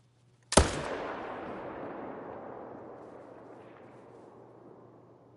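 A single loud gunshot from a hunting video game cracks sharply after a short silence, then a long rolling echo slowly fades away.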